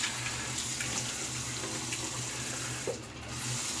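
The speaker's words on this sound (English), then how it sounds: "Cold water or cool water." Water runs steadily from a bathroom tap during a face rinse after a shave, a continuous close splashing hiss with a low hum beneath, briefly interrupted near the end, with no voices.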